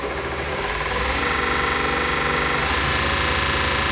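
VEVOR 30 x 1-inch variable-speed belt grinder sander with VFD spinning up to high speed around 5,000 RPM, a loud steady whirring roar with dense vibration that rises in pitch and intensity over the first second and then holds.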